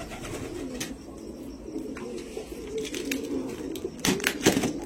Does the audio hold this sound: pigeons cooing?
yes